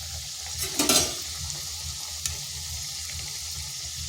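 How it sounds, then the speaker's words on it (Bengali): Egg and onion snacks frying in hot oil in a wok give a steady, quiet sizzle, with a brief louder splatter and stirring clatter near the start and no talking. "কড়াইতে তেল গরম হতে দিয়েছি, গরম হয়ে গেছে। এরপর এগুলো ভেজে নিচ্ছি।"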